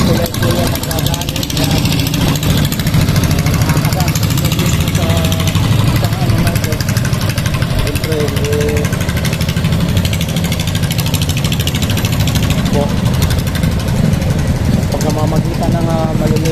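Small engine driving a boat near a bridge in a river village in Hagonoy, Bulacan, a loud steady mid-pitched drone with rattling vibration running close and continuous throughout.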